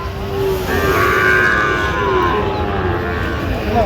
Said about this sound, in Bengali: শাহিওয়াল জাতের ষাঁড় বাচ্চা।